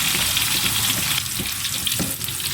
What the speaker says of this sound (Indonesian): Ini minyak wis panas, Lik. Saya goreng tahu dulu ya.